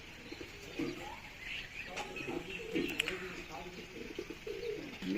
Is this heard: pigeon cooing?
yes